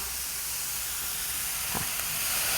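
Garlic chive dumpling filling stir-fried in a pan gives a steady, dense hiss and sizzle throughout, with a brief scraping accent partway through.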